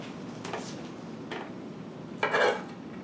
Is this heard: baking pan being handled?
yes